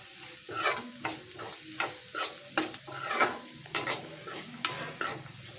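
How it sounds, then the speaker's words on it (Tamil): Ginger and garlic stirred with onions in a hot pan for a chappathi kurma, sizzling steadily while a spoon scrapes through in regular strokes roughly every half second, close and clear with no talking. "இஞ்சி, பூண்டு போட்டு அதோடு சேர்த்து வதக்கிக்கலாம்."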